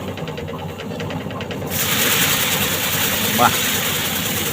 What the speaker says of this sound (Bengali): এই যে বন্ধুগুলা কংগ্রিয়া মেশিন ধান ডাঙের লাগে দেখো।